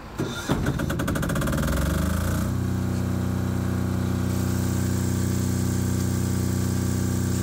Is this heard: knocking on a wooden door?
no